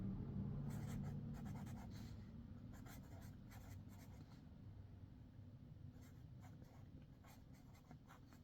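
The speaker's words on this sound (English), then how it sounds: "this is me brain dumping, but also just writing affirmations for me." A pen writing affirmations on paper, with quick, close scratching strokes coming in short bursts and pauses over a low steady room hum.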